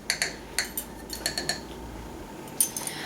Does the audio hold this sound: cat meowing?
no